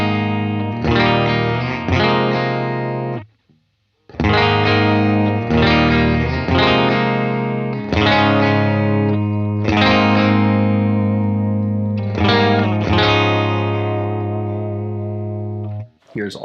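An electric guitar on its bridge pickup runs through a UA Dream 65 compressor pedal, playing sustained, evenly levelled chords and phrases, close and loud with short breaks near the start and end.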